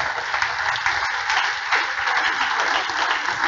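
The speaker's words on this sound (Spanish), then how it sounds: "Denle ese aplauso fuerte al Señor" A church congregation applauds during a pastor's sermon, a loud, dense and steady wash of clapping that holds evenly for several seconds without any talk over it.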